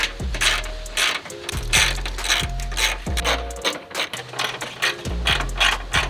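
Ratchet removing the 10mm headlight assembly bolts on an EK Honda Civic, loud close rapid clicking in repeated strokes with brief pauses between bursts.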